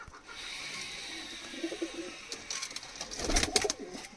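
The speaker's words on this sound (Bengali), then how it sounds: "একদার জেনারেশনের পাড়া একদম পিওর কালদুমা পাড়া" Kalduma pigeons in a loft give low, soft cooing under a steady background hum, followed by a louder burst of rustling near the end.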